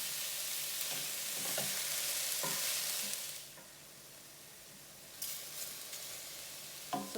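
Onions and mushrooms sauté over lowered heat in a pot, a soft steady sizzle broken by a few stirring clatters, dipping quieter midway before the sizzle returns.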